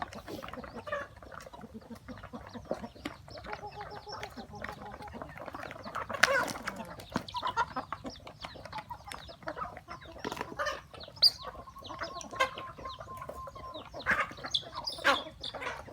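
Thai native chickens, hens and chicks, clucking and squawking around a bamboo-forest farmyard, scattered calls near and far with bursts of activity throughout, no talking.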